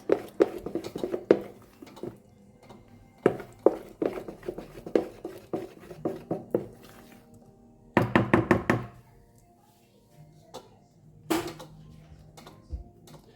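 Raw rice batter is stirred by hand in a vessel, giving irregular close knocks and clunks of utensil against the pot in quick clusters, separated by short quiet gaps.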